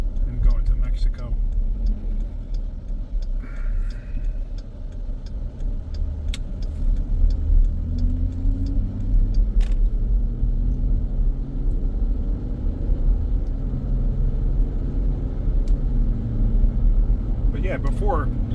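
A Jeep engine accelerates smoothly with no misfires, a steady loud low rumble of road driving that holds throughout with a faint rise in pitch partway.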